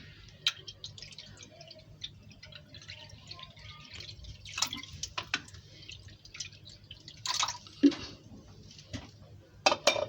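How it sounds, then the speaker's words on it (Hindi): Water is poured into a cooking mixture in a home kitchen, giving small splashes and drips over faint hum, with occasional clinks of a utensil against the vessel, quiet and close. "अब इसमें हम डालेंगे पानी।"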